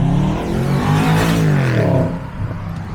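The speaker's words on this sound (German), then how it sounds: "der klingt so schön, dieser 5 Liter V8" A deep 5-litre V8 engine of a BMW 650i revs up and falls back in a smooth rising and falling roar, close and fairly loud.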